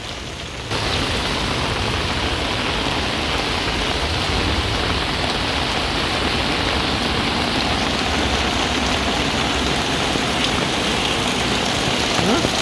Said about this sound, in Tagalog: po ulan lakas lumakas na naman